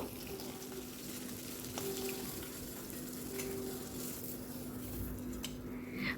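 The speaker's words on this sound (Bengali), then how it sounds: "তো এভাবেই মাছগুলোকে লাল লাল করে ভেজে" Koi fish fry in hot mustard oil in a kadai, a soft, continuous sizzle with occasional light crackles, faint and steady, with no one speaking.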